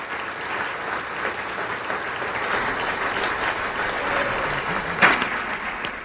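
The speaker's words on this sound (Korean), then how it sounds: "좀 전에는 박수 소리가 더 컸었습니다" An audience applauds steadily, a dense wash of clapping at even loudness with one sharper clap near the end.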